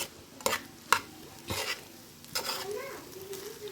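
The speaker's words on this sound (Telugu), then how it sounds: "మొత్తం కలుపుకోవాలి ఫ్రెండ్స్." Mixed vegetable fried rice is stirred in a pan, with several distinct scraping strokes and spoon clinks over a soft sizzle, close and moderately loud.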